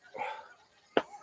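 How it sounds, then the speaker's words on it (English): A dog lets out a soft, drawn-out whine, then after a brief pause gives one sharp, close bark. "Dog."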